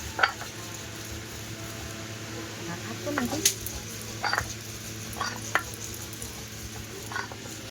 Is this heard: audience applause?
no